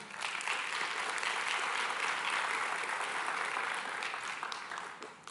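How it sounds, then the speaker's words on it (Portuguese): A church congregation claps together in a steady, dense round of applause, loud and even for several seconds before fading slightly at the end. "Aplauda ao Senhor."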